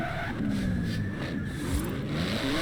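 A 700-horsepower 3.8-litre twin-turbo flat-six in Forza Horizon 4 revs and races, its engine note rising and falling with quick shifts, loud and close, no voices.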